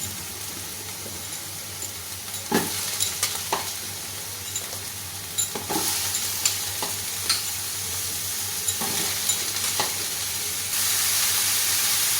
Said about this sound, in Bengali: এবার আমি ধুয়ে জল ঝরিয়ে রাখা মাশরুমগুলো দিয়ে দেবো